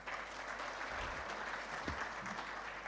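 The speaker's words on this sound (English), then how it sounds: "Can we have a round of applause?" Sustained round of applause from a conference audience after an Ethiopian capital-market panel discussion, dense even clapping at moderate distance, steady for the whole stretch with no talk over it.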